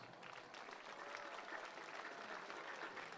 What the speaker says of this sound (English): please join me in honoring Mr. Greg Sakavich with the round of applause